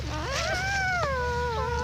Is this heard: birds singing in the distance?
no